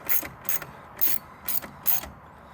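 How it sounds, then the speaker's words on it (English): A ratchet clicks in five short, evenly spaced bursts while snugging the 7mm display bolts on a Jeep Wrangler during a backup camera install, each burst a crisp rapid pawl chatter, close up and isolated with quiet gaps between. "Now you're putting the 4 bolts back in on the display, 1 in each corner"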